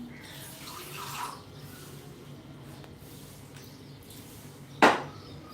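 A small splash of water is poured into simmering green peas curry, a brief soft gush near the start over low kitchen hiss, followed later by a single sharp clank of cookware.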